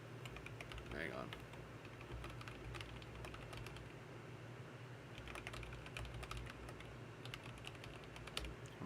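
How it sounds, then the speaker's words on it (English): Faint keyboard typing clicks in quick irregular bursts at a computer desk, with a person speaking briefly near the start and low room hum underneath. "I'm typing."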